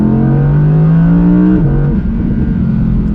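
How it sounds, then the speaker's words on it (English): Naturally aspirated V10 of a rear-wheel-drive Audi R8, roaring loud and close with a steady deep tone that steps down in pitch, then a rougher sustained drone. "that roaring V10 behind me just puts smiles on your face"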